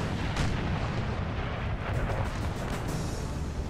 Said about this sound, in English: Oh, dang, that must have been a massive artillery shot.